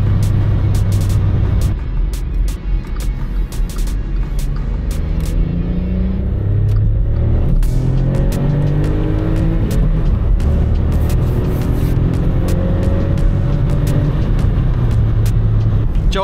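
Small VW Up rally car driving hard on a stage, engine droning loud and close with rising and falling revs through gear changes and a steady road rumble throughout.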